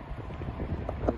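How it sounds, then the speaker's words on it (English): Low, steady wind rumbles and buffets the microphone outdoors in a casino parking lot at a racing pigeon release, fairly soft, with no talking. "That's windy. It's a little windy."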